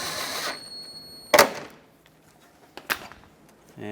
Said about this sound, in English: Let's bolt it back up on the corners.